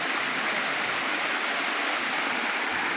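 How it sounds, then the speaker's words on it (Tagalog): Libtong Falls pours in a constant, dense roar of falling water, loud and unbroken with no voices. "Ganda na ang falls ito guys."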